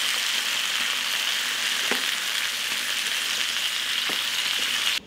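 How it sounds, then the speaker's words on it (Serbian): Tomatoes fry in hot oil with about four cloves of garlic in a pan, giving a constant close sizzle broken by a few sharp pops and crackles. No voices are present. "Kad se propržio beli luk, dodajem paradajz. I propržit ću u njega jedno 10 minuta."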